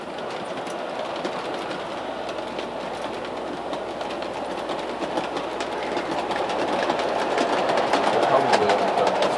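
A Bachmann toy train pulling refrigerator cars runs steadily, its wheels rattling with a continuous clickety-clack that grows slightly louder toward the end.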